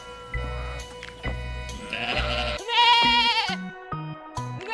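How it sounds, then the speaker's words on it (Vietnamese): A sheep gives a loud, wavering bleat in the middle, nearby and clear, heard over light bouncy background music. "con cừu,"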